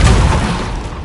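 A single heavy, booming burst of the Depulso spell in Hogwarts Legacy, loud and close at the start, then fading into a low rumbling tail, with no voices.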